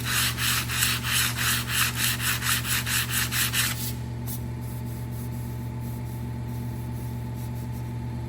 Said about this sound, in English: Sandpaper by hand here.